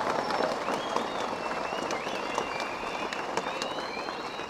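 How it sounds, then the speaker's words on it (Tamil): A crowd at an award ceremony breaks into strong, sustained applause, many hands clapping densely and evenly with scattered whistles and shouts above the roar. "இன்னொரு முறை பலமாகத்தான் கைதட்டுங்களேன்."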